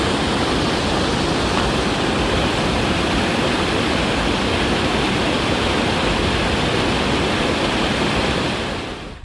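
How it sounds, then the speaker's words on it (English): A forest creek in Cherokee National Forest rushes steadily, a dense, loud, unbroken wash of flowing water that fades slightly at the very end, with no voices. "this is a pretty creek"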